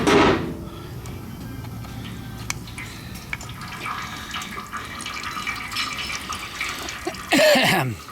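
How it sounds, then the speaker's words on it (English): Coolant drains out of a leaking KTM water pump in a thin, trickling stream with scattered drips, quiet and close, then ends in a louder splash. "We'll drain the coolant out"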